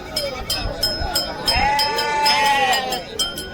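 Sheep or sheep-like livestock bleat in a wavering call amid the crowd noise of a busy animal market at Kashti, Maharashtra, with people talking nearby and sharp clacks scattered throughout.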